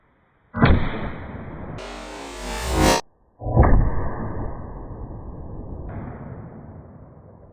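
A single sharp, loud report from a Tikka Roughtech Ember .243 rifle in an MDT XRS chassis firing 80 grain rounds, followed by a long echoing decay, a second loud burst and a rolling outdoor reverberation that fades slowly.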